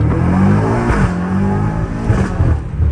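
A BMW M5 Competition fitted with downpipes drops a gear and pulls hard, its engine note rising in loud, close harmonic sweeps that hold steady throughout.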